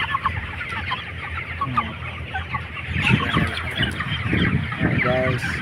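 Farm chickens raised for harvest cluck in a steady scatter of short calls, close and moderately loud, with a brief crow-like burst near the end and no talk over them.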